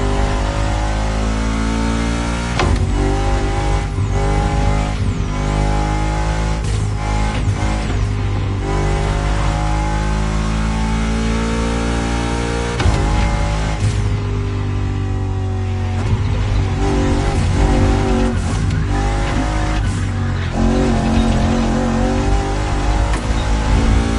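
A Toyota Tacoma pickup growls off-road in the Motorfest racing game, engine revving hard and shifting pitch in repeated surges, loud and close with no pauses.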